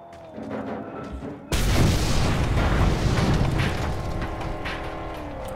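Gas explosion from a transfer tank set on fire in the Mad Max video game, a sudden loud blast that gives way to a long, heavy roar of burning and rumble.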